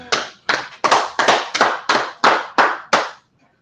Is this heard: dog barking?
no